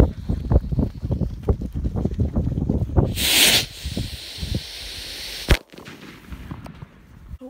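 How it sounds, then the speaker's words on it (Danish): A New Year's firework rocket goes off outdoors with a loud burst of hiss and crackle, a sharp bang a moment later, and wind buffeting the microphone throughout. "Man går ud og fyrer en velkommen raket af."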